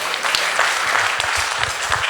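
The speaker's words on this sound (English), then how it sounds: "Give them a round of applause." A group applauds at a school gathering, a dense, steady patter of hand claps sustained evenly for a couple of seconds, fairly close and loud, with no talking over it.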